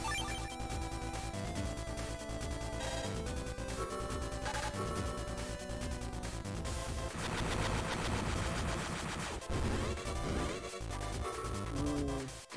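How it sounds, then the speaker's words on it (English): Meteor Missiles attack in the Mega Man Battle Network 6 video game, a dense barrage of rapid synthetic blasts and explosions layered over loud game music, continuous and busy with bursts swelling toward the end. "The Meteor Missiles"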